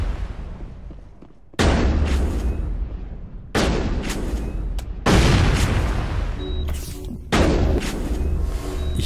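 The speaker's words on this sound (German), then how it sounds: "Ich glaube, ich schade mir durch die Explosionen immer selber." Four heavy explosions boom one after another in Mass Effect, each followed by a rumbling, crackling tail that fades before the next blast.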